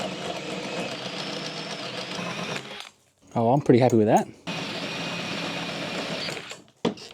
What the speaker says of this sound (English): We're going to drill out either end so that the cross member marries nice with the existing roof rack.